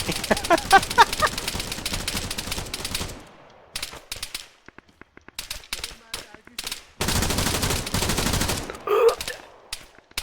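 Rapid bursts of video game gunfire and heavy artillery, dense stuttering rattles broken by brief silent gaps, loud and close, with a faint voice now and then.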